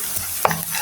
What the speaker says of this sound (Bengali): গরম মশলাগুলি হালকা একটু ভাজা হয়ে গেছে